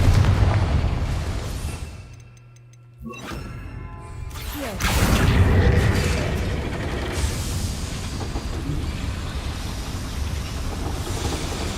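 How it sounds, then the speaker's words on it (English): The Confringo explosion spell in the video game Hogwarts Legacy: after a short lull, a single loud blast bursts out and then fades into a long rumbling decay. "Confringo."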